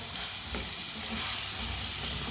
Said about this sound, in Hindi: चम्मच चलाते हुए भून लेंगे